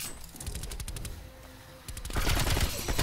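Rapid bursts of automatic gunfire from Call of Duty: Black Ops Cold War crackle in quick rhythmic volleys, briefly pausing before a louder, denser barrage near the end.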